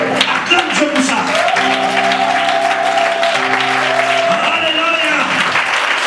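A church congregation breaks into loud, sustained applause, dense clapping that fills the room throughout while a voice speaks over it and a held sung or voiced tone rises in the middle.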